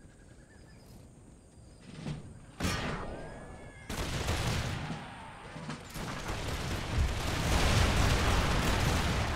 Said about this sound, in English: Overlapping fields of fire now, and the cannon should start going off any second.